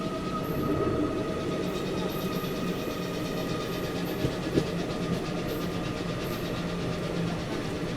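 The Chalukya Express, an ICF coach train, pulls into Tumakuru railway station with a steady rolling rumble, faint clickety-clack and hissing brakes, heard from inside a 2AC coach without speech.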